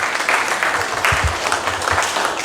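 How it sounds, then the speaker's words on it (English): Applause from a seated audience at an executive director's meeting, a steady mid-level wash of clapping that continues evenly for a couple of seconds with no talk over it. "So give them a round of applause,"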